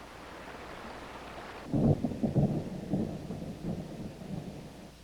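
Torrential thunderstorm rain hisses steadily, then deep rolling thunder breaks in and rumbles on in uneven waves over the downpour, with no voices.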